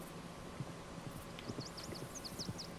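A horse trots in a Red Dead Redemption 2 game scene, its hooves making soft, fairly quiet clip-clops over a steady background bed, with a few high bird chirps above.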